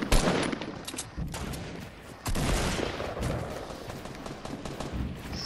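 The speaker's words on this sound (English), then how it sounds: "we're getting shot from our back." Bursts of gunfire in the video game Fortnite coming from behind the player, rapid cracking volleys in clusters, loud and close with brief gaps between bursts.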